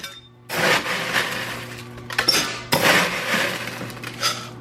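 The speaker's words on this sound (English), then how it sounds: "I need to get a glass of ice." Ice cubes clatter and clink into a glass in two distinct bursts, bright, close and sharp, followed by lighter rattling as the cubes settle.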